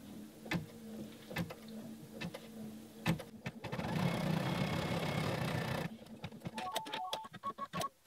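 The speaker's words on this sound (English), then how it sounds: "the next step in the design is to stitch now a tacking down stitch that's going to anchor this top fabric" A home embroidery machine runs a tack-down stitch anchoring the top fabric of an appliqué snap pouch, giving a soft, rapid mechanical whirr with sharp periodic clicks and thumps, close and moderately quiet, with no talking.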